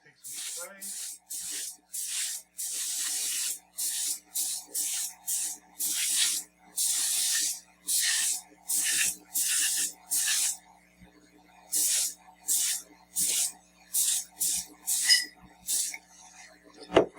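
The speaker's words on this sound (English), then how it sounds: "I'm going to take some spray." A spray can is used on a dental model before digital scanning, letting out about twenty short, loud, close bursts of hiss in quick, irregular succession against a quiet background.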